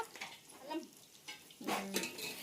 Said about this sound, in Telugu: ఉల్లిగడ్డలు పచ్చిమిర్చి బగారాకు అన్నీ ఆయిల్ వేసింది ఫ్రై అవుతున్నాయి అవి